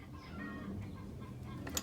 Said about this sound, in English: Got all the little ducklings. Except they're chickens.